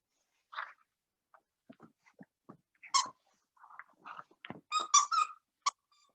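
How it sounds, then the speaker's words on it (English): A squeaky reindeer dog toy gives a scattered run of short, high squeaks and squeals, loudest in a cluster near the end, heard on its own during a quiet yoga practice. "this practice is going to be accompanied by a squeaky dog toy"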